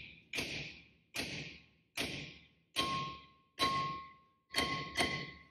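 Bearing race being hammered into the wheel hub of a 2000 Ford F-150, heard as about seven evenly spaced, solid metallic thuds, close and alone, with a faint ringing tone creeping in on later strikes.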